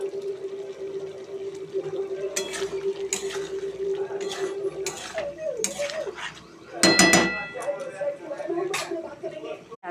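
Curry being stirred in a pot with water added, heard as clinks and scrapes of a spoon against metal, a short splashing pour midway, and someone talking throughout.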